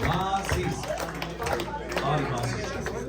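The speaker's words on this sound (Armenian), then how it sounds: "Ծափահարություններ Մասիս։" Applause for a man at a Father's Day gathering at an adult day health care center, a burst of clapping from a small crowd mixed with chatter and voices talking over it.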